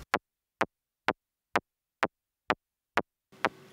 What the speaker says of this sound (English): So I used the layer mode and the second layer sounds like this.